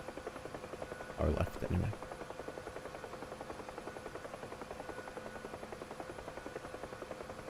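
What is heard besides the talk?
Huey helicopter flying, from video game DCS World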